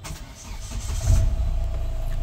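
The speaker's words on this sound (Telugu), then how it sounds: "ఇంజన్ స్టార్ట్ చేస్తాను. ఫస్ట్ ఇంజన్ స్టార్ట్ చేసేటప్పుడు క్లచ్ ప్రెస్ చేసి జస్ట్ బటన్ ప్రెస్ చేయాలండి" A 2018 Hyundai Verna Fluidic SX Optional is started with the push start button, and its engine cranks briefly and catches with a low surge around the middle. A steady close idle follows.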